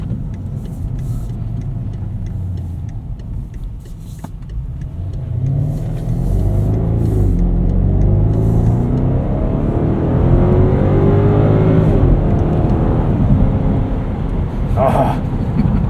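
A 2013 BMW X5 xDrive50i with its twin-turbo V8 in sport mode rumbles and revs under acceleration from inside the cabin, a steady deep drone rising in pitch through shifts, with occupants talking over it.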